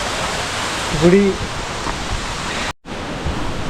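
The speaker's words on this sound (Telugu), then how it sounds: "మన చుట్టూ లెఫ్ట్ రైట్ మొత్తం వాటర్ ఫాల్స్." Waterfalls around the hillside Punyagiri temple near Araku pour with a steady, broad roar of rushing water that fills the scene, while a voice briefly speaks over it.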